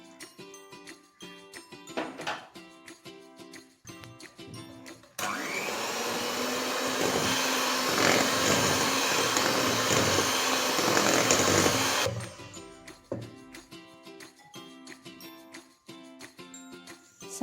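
Electric hand mixer beating cake batter of maida and milk, a steady loud whirring motor for about seven seconds that starts abruptly and cuts off, with quieter kitchen clatter and music before and after.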